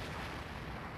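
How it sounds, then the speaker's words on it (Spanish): Kamehameha energy blast in a Dragon Ball Z Super Sonic Warriors video game, a brief dense roaring burst that fills the full second at steady, fairly faint level. "una onda Kamehameha que destruyó a Buu y a Babi"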